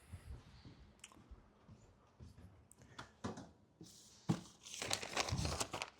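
A sheet of paper is handled in a lecture room, crinkling softly at first and then louder, with rustles building toward the end.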